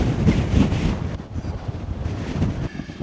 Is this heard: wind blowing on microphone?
yes